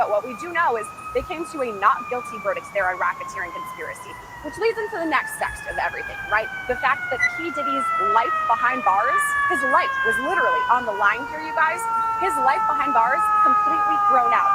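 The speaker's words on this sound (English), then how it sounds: "So this is an active street. You can hear sirens," Emergency vehicle sirens wail along an active Manhattan street outside the Southern District courthouse, rising and falling steadily throughout, with several overlapping tones under continuous close talk from a reporter.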